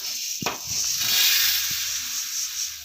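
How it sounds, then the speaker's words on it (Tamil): Dry roasting chana dal lentils in a pan for idli podi, a steady soft hiss with a few light scrapes and rattles of grains, close and continuous with no talk. "இப்போ நல்லா வறுத்துடலாம்"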